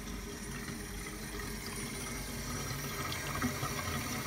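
A steady stream of tap water runs in a kitchen sink while several parts of a coffee drip filter are rinsed, a constant, even splashing rush with faint handling sounds and no speech.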